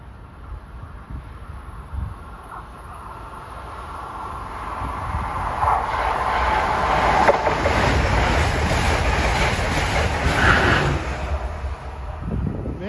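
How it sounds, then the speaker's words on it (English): Passenger train 653, New York to Harrisburg, approaching cab car first on the Northeast Corridor, a broad rushing roar that builds steadily from afar and peaks loud near the middle, with wind buffeting the microphone. "Approaching at 536 is 653, New York to Harrisburg, cab car first"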